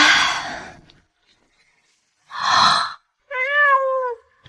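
A small kitten gives a drawn-out meow at the start, then after a pause two more calls, the last a clear rising-and-falling mew, close and alone in a quiet room.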